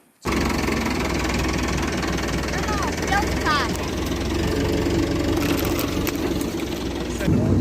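A loud tractor engine drones steadily while riding on it in a Turkish village, with brief chirping sounds in the middle and a soft voice at the end.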